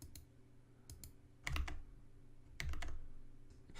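Close, steady keystrokes on a computer keyboard tap out in small groups, with a few firmer key presses standing out among the lighter clicks against a low background hum.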